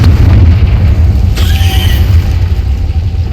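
A Confringo blast spell goes off in Hogwarts Legacy as a loud booming explosion. A sharp burst lands mid-clip over a heavy, rumbling low roar.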